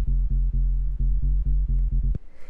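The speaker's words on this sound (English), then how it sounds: "it's just a square wave going into a low pass filter" Sub bass made from a square wave fed through a low-pass filter, played as a rapid rhythmic pattern of deep, rounded, pulsing notes with short gaps between them, loud and alone before cutting off.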